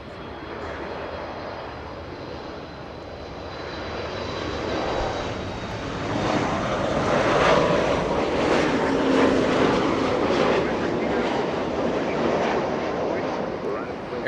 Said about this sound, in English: Air Canada 556 from Vancouver, a MAX 8, a 737.